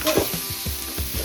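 Chicken liver sautéing with ground garam masala in a hot pan, a steady close sizzle broken by several scraping strokes of a spoon stirring at a quick, even pace, with no voices.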